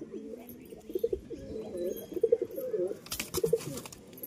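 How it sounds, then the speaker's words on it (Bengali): A pigeon cooing softly nearby in repeated low rolling phrases, with a brief rustle partway through and otherwise quiet surroundings. "এই হচ্ছে কবুতরটা।"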